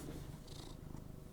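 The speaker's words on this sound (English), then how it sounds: "If you hear purring, it's because Mr. Min is purring right next to the mic." A cat named Mr. Min purrs right beside the microphone, a close, continuous low rumbling purr with no pauses.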